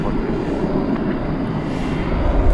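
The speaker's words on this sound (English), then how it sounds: "the arrival of Flight 1931 from Phoenix" An Airbus A321 airliner arriving at DFW Airport at night, heard as a steady broad engine roar and rushing noise that builds slightly toward the end, loud and continuous with no distinct voices.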